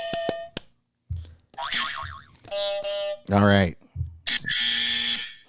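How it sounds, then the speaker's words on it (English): Trivia game buzzers fired one after another in a quick round at a horror trivia night, a string of distinct electronic tones, boings and warbles separated by short gaps, with a brief spoken remark and chatter in between. "You do a buzzer round just to get everybody's buzzer."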